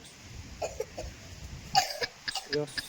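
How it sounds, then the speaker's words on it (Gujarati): A person with a cold coughs several times in short, sharp bursts, fairly close, amid quiet background noise and a few faint voices. "શરદી ઉધરસ ચાલુ છે"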